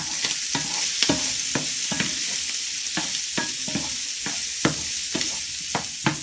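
Chorizo for a mushroom risotto is stirred in a hot pan with a wooden stirrer, giving steady close sizzling with repeated scraping strokes at a loose, regular rhythm.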